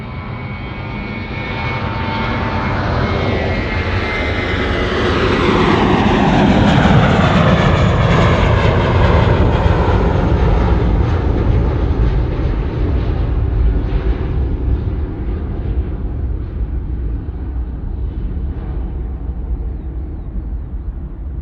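A Jetstar jet airliner roars loudly as it departs Sydney Airport, the engine noise swelling as it passes close by and then slowly fading into a broad, sustained rumble.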